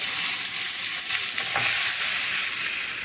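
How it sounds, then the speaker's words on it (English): Pork chops browning in a frying pan give a steady, close sizzle of hot fat that holds at an even level for the whole stretch, with no voices over it. "We're going to brown our pork chops."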